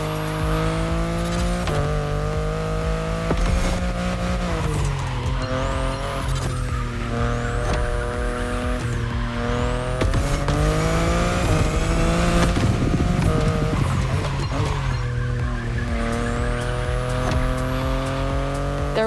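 BMW i8 sports car in The Crew Motorfest, a loud, steady engine drone rising and dropping through gear shifts, with tires squealing and skidding around corners.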